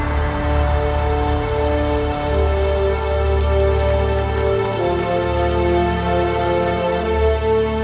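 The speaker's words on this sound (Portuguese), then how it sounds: "Chuvas de granizo açoitam as planícies." A hailstorm pounding open plains: a dense, steady roar of ice hitting the ground, loud and continuous throughout with no pauses and no voices.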